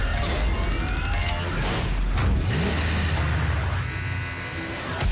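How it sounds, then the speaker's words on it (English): Car engine and road noise from the Cyberpunk 2077 E3 2018 trailer, a steady loud mechanical drone with a low swooping pass near the middle, mixed with a futuristic score throughout. "This car's cool, but I want it to fly."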